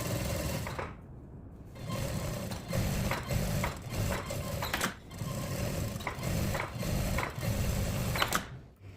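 A sewing machine runs stitches down a denim jacket in short repeated bursts of rapid mechanical chatter, close and loud, with a brief pause between runs.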